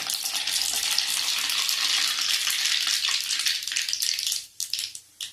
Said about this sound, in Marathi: तेल व्यवस्थित तापलेलं आहे. त्यात आपण किंचित 1 चमचा मोहरी घालणारे.